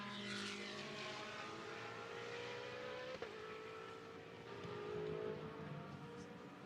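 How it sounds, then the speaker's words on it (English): Naturally aspirated Ferrari 458 GT race car engine at the Spa 24 Hours circuit; a high, revving engine note passes by, pitch climbing through gear changes with a brief shift blip midway, under a distant commentary voice. "The Ferrari, the naturally aspirated 458, still one of the best sounding GT cars in the last decade."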